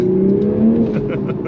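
A 2023 Toyota GR Supra A91-MT Edition engine, front-mounted with a manual gearbox, revs up with a rising, throaty note, then settles and falls away, heard from inside or close to the car.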